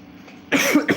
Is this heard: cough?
yes